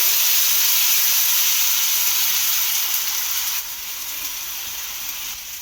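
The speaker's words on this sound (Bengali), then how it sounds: "তেলটা বেশ ভালোভাবে গরম হয়ে গেছে এখান থেকে এবারে ব্যাটার নেব নিয়ে আমি ঠিক এইভাবে দিতে থাকবো" Batter poured into hot oil in a pan sizzles loudly and continuously, a bright steady hiss that eases slightly partway through, close by with no talking.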